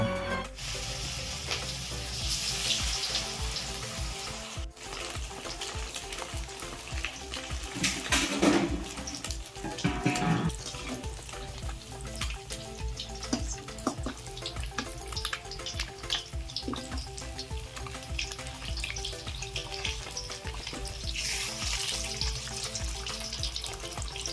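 Masala-coated fish frying in oil, a steady crackling sizzle throughout with brief louder bursts, no talk.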